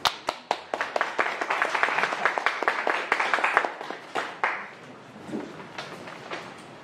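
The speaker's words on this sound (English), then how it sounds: "please welcome Nate with applause" Audience applause, beginning with a few sharp individual claps that quickly build into a steady wash of clapping, then thinning out and fading near the end.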